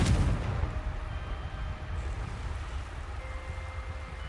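A Confringo fire spell explosion in Hogwarts Legacy on PS5: a heavy opening blast with a sharp crack, then a deep rumbling roar that slowly fades while a faint tonal hum lingers.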